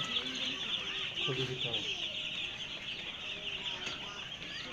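Chickens cluck and chatter continuously on a poultry farm, a dense mid-distance flock, while someone speaks over them.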